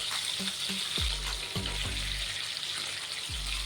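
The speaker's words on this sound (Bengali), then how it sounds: "মাছটাকে একটু উল্টে দেবো মাছটা কিন্তু খুব বেশি ভাজবো না" Hilsa fish frying in a pan for a mustard and coconut-milk curry, a continuous close sizzle and hiss with several low bumps and knocks as the pieces are handled.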